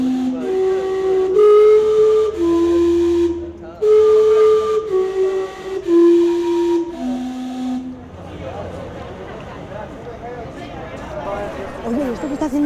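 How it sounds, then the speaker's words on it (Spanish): A steam clock's whistle plays a series of melodic notes in Vancouver, loud and sustained, followed by hissing steam and crowd noise with people talking. "Hay un sistema que hace que el vapor salga y cada 15 minutos silba"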